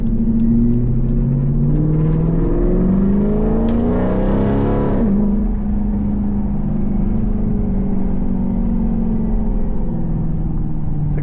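A Jeep's 5.7 engine with a Corsa exhaust revs up to a loud peak, then settles into a deep steady rumble that continues close and alone.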